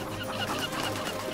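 A cluster of chickens in the game Sabrina: Secrets of a Teenage Witch clucks busily up close, overlapping short clucks in a quick, chattering burst.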